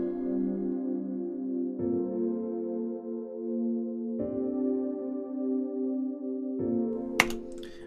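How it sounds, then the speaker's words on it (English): Sustained piano chords from a chill lo-fi beat interlude play alone, four slow block chords each held for about two seconds, soft and mellow with no drums or voices. "this little interlude section where it's just the main piano chords"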